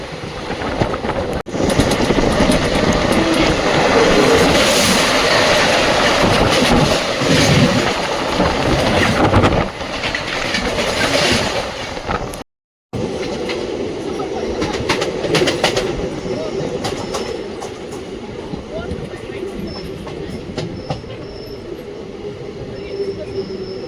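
The Bengaluru Udaya Express rolls along between Bengaluru and Tirupati, a loud sustained rumble and rattle of carriages with wheel squeal, brief pause midway, and pigeons cooing nearby.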